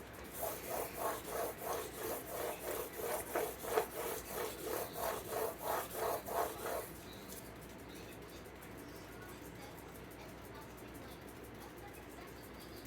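A broadhead is rubbed back and forth in a quick, even rhythm of about a dozen close scraping strokes, then stops and leaves quiet room tone.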